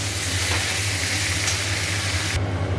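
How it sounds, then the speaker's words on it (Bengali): Powdered spices (turmeric, chili, cumin) with salt and sugar frying in oil in a pan give a loud, continuous close sizzle that cuts off abruptly near the end, with a steady low hum beneath and no talk. "এটা ভালো করে এবার কষাবো, তারপরে মাছ দেবো।"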